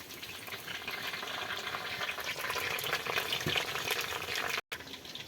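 Onions fry in oil in a pan over a mud stove while rajma is being prepared, a steady, fairly quiet sizzle with faint stirring, broken by a short dropout near the end, with no speech.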